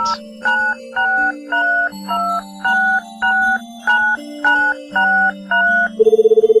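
A telephone in a video game rings in a repeating electronic trill, with evenly spaced bursts over a shifting tone, loud and clear with no voices.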